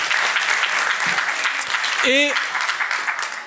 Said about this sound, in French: Là aussi, un tonnerre d'applaudissements.